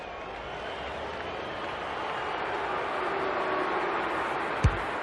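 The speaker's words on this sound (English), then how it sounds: "The crowd will tell the story." Crowd at an opening-round AFL football match, a broad steady roar of cheering that swells slightly over several seconds, distant and continuous, with a single sharp knock near the end.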